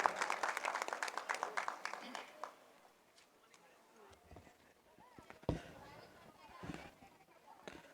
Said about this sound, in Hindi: जोरदार तालियां से श्रीवास्तव साहब का अभिनंदन